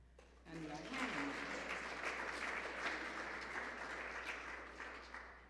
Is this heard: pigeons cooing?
no